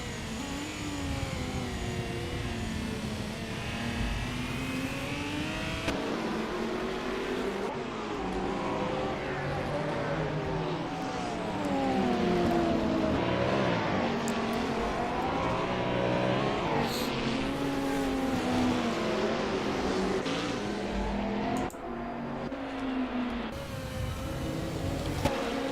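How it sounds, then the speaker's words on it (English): A pack of race cars in a sim-racing Australian touring car (ATCC) round at Oran Park drones past continuously, engines rising and falling together in overlapping revs throughout. "There's this big pack of cars."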